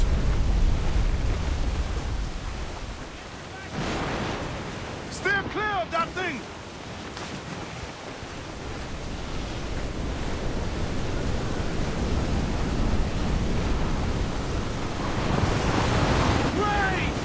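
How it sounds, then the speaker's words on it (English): A waterspout at sea in Assassin's Creed 4 Black Flag brings loud, continuous roaring waves and wind. Brief shouted voices cut through midway. "Water spout!"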